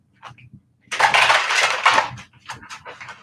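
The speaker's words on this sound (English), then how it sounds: "One more shuffle." A deck of tarot cards is shuffled by hand in a short riffling burst of papery flutters and clicks, preceded by a couple of light taps, close and clear in a quiet room.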